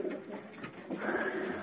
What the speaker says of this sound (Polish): Tu jesteśmy w gołębniku.